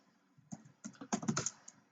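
Typing HTML code on a computer keyboard: a short, close burst of quick, uneven key clicks that thickens into a dense cluster mid-way, heard on its own with no talking.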